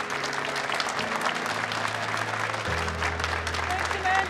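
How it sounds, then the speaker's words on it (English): Steady applause from a crowd, continuous and moderately loud throughout, with soft piano-like tones sustained underneath. "Round of applause for Tika, everybody."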